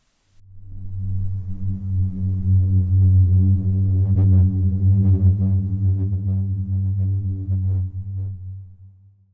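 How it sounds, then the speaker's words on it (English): Booming song of the Kelso Dunes in the Mojave, a loud, steady low drone with a strong humming pitch and faint overtones that swells, holds for several seconds and then fades. "where wind passing over the waves of sand produces a vibration that can be both felt and heard"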